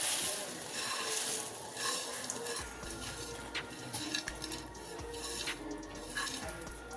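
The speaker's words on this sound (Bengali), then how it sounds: "মিহিদানাগুলো রসের মধ্যে দিয়ে দিচ্ছি" Tiny fried gram-flour pearls (mihidana) tipped into sugar syrup boiling on a stove and stirred, a steady bubbling hiss with scraping stirs, close and continuous, made while preparing sweet laddus.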